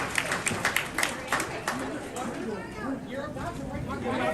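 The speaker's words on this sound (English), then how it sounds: "And look at them cheer." A crowd at a Marjorie Taylor Greene political town hall cheers and applauds, with dense overlapping claps and shouts that swell and stay loud throughout, mixed with a general roar of many voices.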